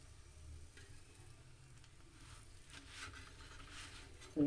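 Mooli paratha frying in a pan over low heat gives a soft, steady sizzle with light crackle and patter, quiet and continuous with a brief louder knock at the very end.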